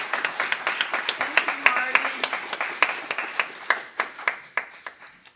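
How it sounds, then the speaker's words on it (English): A small audience gives a round of applause for the Upper Peninsula Poet Laureate at a poetry and music event, with steady, fairly close hand claps that thin out and fade over about five seconds. "Please give a round of applause to Beverly Mathern, UP Poet Laureate."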